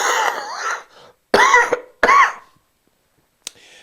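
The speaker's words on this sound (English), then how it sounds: "I am still having a great deal of difficulty in talking without going into the coughing spasms, as you just saw and heard" A man with a viral throat infection coughs in a short spasm: several harsh, close, loud bursts broken by strained vocal sounds, then a brief final cough.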